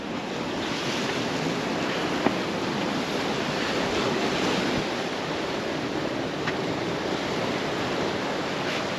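Sea waves at Anjuna beach in Goa roll in steadily as continuous surf with a broad roar and some wind buffeting on the microphone, with no voices over it.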